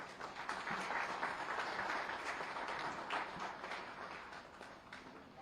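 An audience at an investors' meet for a mega textile and apparel park applauds a named investor: a moderately distant, continuous spread of clapping with scattered sharper claps, gradually softening toward the end.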